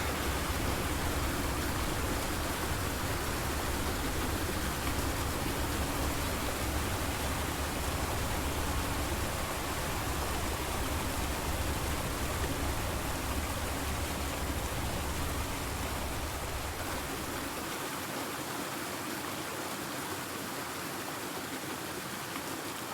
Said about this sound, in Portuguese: ASMR de chuva